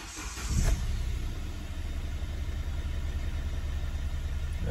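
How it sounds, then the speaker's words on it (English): A Hyundai i30 CRDi diesel car engine starts with a brief burst and then settles into a steady, even idle hum that continues to the end. "we're just gonna start the engine and just keep an eye on the oil pressure light"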